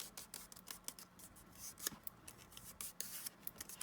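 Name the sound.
trimming wood with scissors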